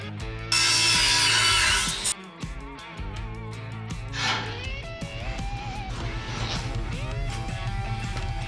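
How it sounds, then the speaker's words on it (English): A handheld power tool grinds in a loud, harsh burst lasting about a second and a half, then stops, followed by quieter clattering workshop noise and whirring. "I'm gonna do some grinding."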